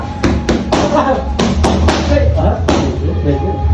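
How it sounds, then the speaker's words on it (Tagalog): Heavy punches land during a boxing sparring session, a quick run of loud thuds and smacks in uneven rhythm, close and punchy, with some voice and room noise mixed in. "sobrang lakas ng lagabog ng kada suntok niya"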